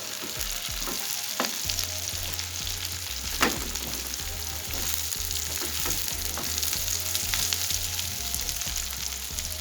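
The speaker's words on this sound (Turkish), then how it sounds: "Biraz daha kızarmasını bekliyorum bu arada." Onions and peppers fry in a pan for a potato and meat sauté, a dense continuous sizzle and crackle with scattered pops and occasional stirring, close and steady throughout.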